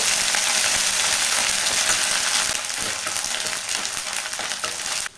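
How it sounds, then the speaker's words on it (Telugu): Ginger garlic paste frying with onions in a pan, a steady loud sizzle with fine crackle throughout, easing slightly partway and cutting off at the end. "ఇప్పుడు ఒక స్పూన్ వరకు అల్లం వెల్లుల్లి పేస్ట్ కూడా వేస్తున్నా అల్లం వెల్లుల్లి పేస్ట్ కూడా పచ్చివాసం పోయేంత వరకు అయితే ఫ్రై చేసుకోవాలి"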